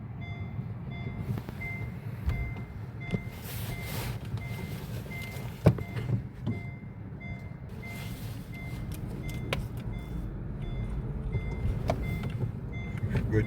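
A Honda Fit GP5 is driven with a steady low engine and road rumble from inside the cabin, a repeating electronic beep, and a few scattered thumps and clicks.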